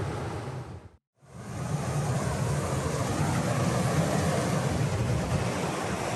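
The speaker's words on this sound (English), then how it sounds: "Nice little waterfall" A small waterfall in a shaded bush gully gives a steady, broad rushing roar, close and continuous, with a brief dropout near the start and no voices.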